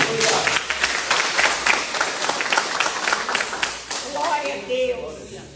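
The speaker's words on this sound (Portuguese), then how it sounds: "uma salva de palmas para Deus" A church congregation breaks into dense, sustained applause close by, many hands clapping at once, with voices mixed in as it tapers off.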